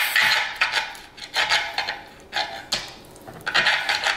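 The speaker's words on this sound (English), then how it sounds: "I slice it up" A knife cuts pickled meat into chunks on a board, giving a series of close, scraping slices and taps in an uneven rhythm, each stroke short and distinct with brief pauses between.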